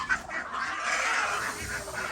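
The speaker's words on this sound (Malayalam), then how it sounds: "വാത്ത പേടിപ്പിക്കുന്നത് ഞാൻ കാണിച്ചു തരാം." A farm goose hissing to scare others, a harsh, breathy, continuous hiss lasting about two seconds, fairly close and steady with no voices over it.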